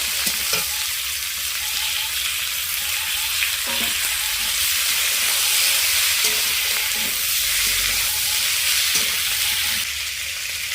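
Chopped onions frying in oil with whole cumin and whole garam masala in a pan, a strong continuous sizzle up close, broken by periodic clacks of a spatula stirring against the metal.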